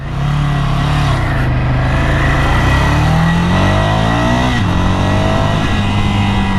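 A Ducati Scrambler motorcycle engine revs up steadily and loudly as it accelerates through the gears, heard close with strong wind rush and no talking.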